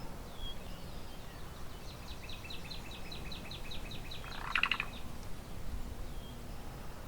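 A cuckoo gives a short call while preening, a quick run of faint, high repeated notes in the middle distance over quiet outdoor background, with one brief louder burst near the end.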